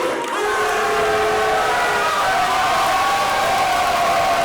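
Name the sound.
raucous wrestling crowd cheering at Fayetteville Town Center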